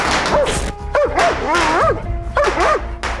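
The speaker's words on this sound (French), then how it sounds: "Le chien grognait et aboyait" A guard dog barks in sharp, loud bursts, with whining and yipping tones between them, close and unaccompanied for about three seconds.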